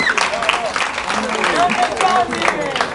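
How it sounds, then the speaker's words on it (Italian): Audience applause at a seaside lido talent-show evening, broad clapping running throughout with a voice talking over it and faint tonal sounds in the background. "un applauso forte di Gianni"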